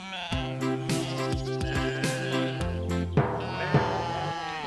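A goat bleats in a series of harmonic, wavering calls, close and fairly loud, several bleats run together with brief gaps and no talking.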